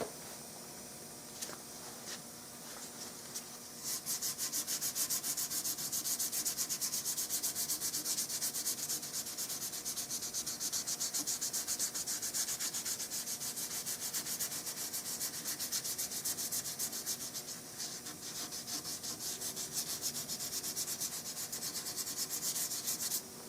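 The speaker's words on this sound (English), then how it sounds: "I'm going to lightly sand it with 220." Someone lightly sands a wooden gun stock being refinished, using 220-grit sandpaper by hand: close, continuous rubbing and scratching strokes that grow louder after a few seconds and keep a steady rhythm with no voices.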